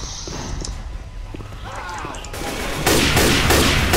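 Gunfire in Left 4 Dead 2 on the Dead Center campaign, scattered shots early then a dense burst of rapid fire toward the end, with a player talking over it.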